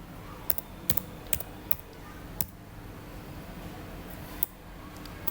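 Scattered keystrokes click sharply on a computer keyboard, spaced out irregularly over a low steady background hum, with no talking.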